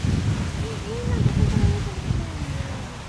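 Strong wind in the Iloilo countryside buffets the microphone with a low, gusty roar that swells and eases, while a person talks over it.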